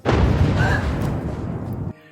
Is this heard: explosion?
yes